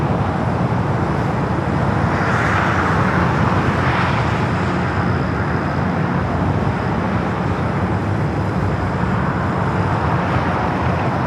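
An Alaska Airlines airliner, fourteen years old and in the airline's older livery with the lei, produces a loud, steady broadband jet roar that swells slightly and holds throughout at Los Angeles International Airport, with no talk over it.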